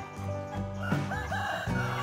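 A rooster crows loudly and close among chickens roosting in a tree on temple grounds in Mukdahan, Thailand, with soft clucks around the call.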